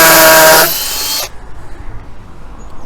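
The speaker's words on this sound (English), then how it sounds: "What I'm doing is I'm backing the bit in and out, and it gets rid of some of the spoils or some of the dust so that it doesn't bind up." Power drill boring into brick, loud and close, running steadily for about a second before the bit is backed out and the whine cuts off, leaving quiet room tone.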